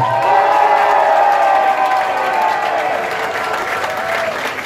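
A concert crowd applauds and cheers loudly and steadily, clapping blending into a dense wash of noise that eases slightly toward the end.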